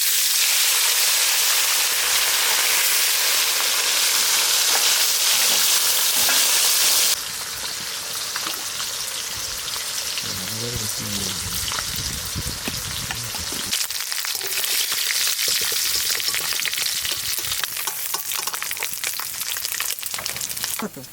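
Potato finger chips frying in hot oil for a popular Birbhum home dish, a loud, steady crackling sizzle that eases a little partway through and keeps bubbling on without a break.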